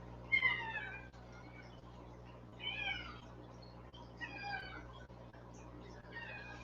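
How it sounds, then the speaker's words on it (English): Milo, a pet cat, meows four times in a slow, evenly spaced series, each call drawn out and plaintive, fairly close but quiet, with faint room noise beneath. "That's my cat."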